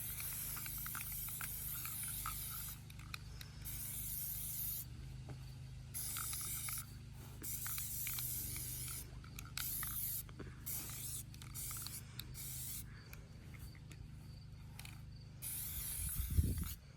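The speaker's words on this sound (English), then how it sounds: "So we are properly giving it a full coverage of paint" Paint sprayed evenly over a surface for full coverage, producing a steady, faint hiss in long continuous bursts separated by short breaks, with no speech.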